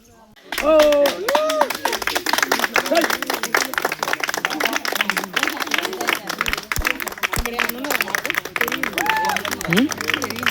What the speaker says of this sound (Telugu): చప్పట్లు కొడితే మాత్రం ఆ బుడిగలు మాత్రం బాగా అంటే బాగా ఎక్కువ వస్తుంది